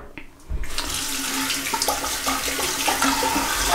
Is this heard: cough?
no